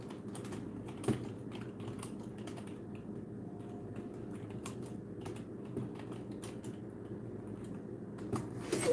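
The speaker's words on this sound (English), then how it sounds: "I'm typing it on this search bar right now" Soft, quiet keystrokes tap in irregular bursts on a computer keyboard, with a faint low hum underneath and no talking.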